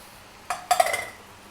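Metal utensil clinking and scraping against a pan while boiled macaroni is tossed with vegetables, a short burst of close, bright clatter after a single tap, no talking.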